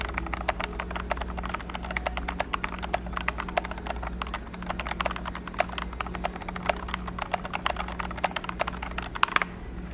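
Steady, fairly quiet clacking of keys being typed on a mechanical keyboard, continuous and close, with a low background hum.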